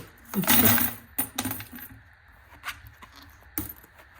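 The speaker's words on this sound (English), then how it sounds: "I do have some coins to drop." Coins are dropped and clink together in a handful of separate bursts, one long jangling pour followed by shorter clatters, close and loud with quiet pauses between them.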